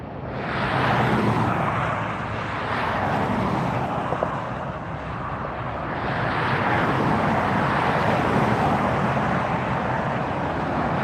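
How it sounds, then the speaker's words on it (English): A Delta airliner takes off at LAX airport, a loud, steady broadband jet roar that fills the whole stretch, swelling slightly and easing around the middle before building again, with no talking. "And there goes the Delta taking off."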